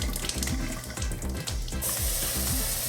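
Rinse water tipped out of a pot of washed white rice, a close, steady splashing pour with small knocks of grains and the pot edge.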